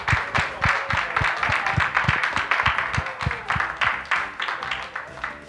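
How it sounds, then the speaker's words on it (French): Applause for French-speaking graduating students at a school celebration, rhythmic group clapping in a fairly loud, steady beat, with a voice and other sounds mixed over it. "Hey, bonne main d'applaudissement."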